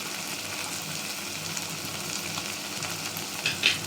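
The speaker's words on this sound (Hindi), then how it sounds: "अच्छे से थोड़ा फ्राई हो जाएगा।" Spices sizzle steadily in a hot pan for potato curry, a continuous close frying hiss with a brief louder burst near the end.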